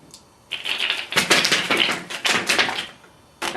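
A deck of playing cards sprung from one hand to the other, giving fast crisp riffling bursts of flicking card edges that come close up in several quick runs separated by short pauses.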